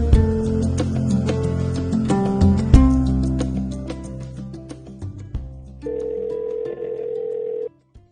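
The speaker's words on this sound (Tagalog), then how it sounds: "Bella, kanina pa ako tumatawag." A telephone rings with a steady electronic tone for an incoming call in a Filipino drama scene, following a dense passage of background music, then cutting off abruptly.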